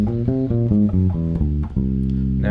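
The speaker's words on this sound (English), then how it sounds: "So the whole tone scale goes on C would sound something like this." A six-string electric bass plays the C whole tone scale, one clear plucked note after another in a steady climb, then a sustained final note. The sound is close and alone, with no voices.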